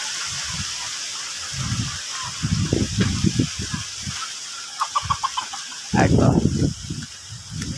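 Several chickens cluck and squawk in short bursts close by during Super Typhoon Pepito in Nueva Ecija, Philippines, with a louder flurry of calls near the end over a steady windy hiss.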